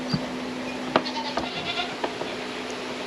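A dairy goat bleats during hand-milking, giving a few short, fairly close calls spread across the moment. Soft handling noises sit underneath, with a steady low hum in the background.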